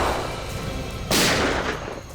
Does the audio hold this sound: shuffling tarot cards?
no